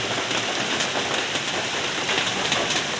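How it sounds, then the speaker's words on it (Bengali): Heavy rain pours down in a dense, steady hiss with no pauses, and no voices are heard. "এই যে নিঝুম আকারে বৃষ্টি হচ্ছে, ঝুমঝুমায়া বৃষ্টি পড়ে।"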